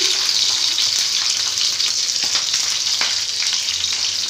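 Sliced onions sizzle in hot oil in a steady, close, loud hiss, with faint scraping now and then and no talking.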